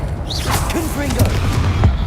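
A Confringo blasting curse goes off in Hogwarts Legacy: a loud, booming burst and crackle amid spell whooshes and game effects in a short, busy stretch, with a voice briefly heard.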